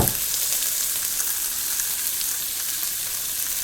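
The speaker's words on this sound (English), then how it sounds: "our onions are starting to sizzle out of there" Onions and jalapeno peppers sizzle in a hot pan, a bright, steady frying crackle that starts abruptly and holds at an even, fairly loud level throughout.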